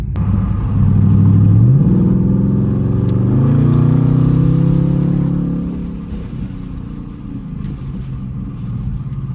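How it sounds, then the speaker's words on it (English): A 2024 Ford Mustang GT with a VMP Stage 3 supercharger rumbles loud and close, its engine note rising with revs and then settling back to a throaty idle. "So you don't hear like a bunch of Supercharger whine like you would like with the Hellcat, but it's definitely there."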